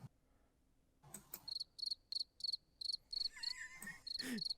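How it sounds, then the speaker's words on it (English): Crickets chirp in short, regular pulsing bursts against a quiet night background, with a faint brief rustle partway through. "just crickets"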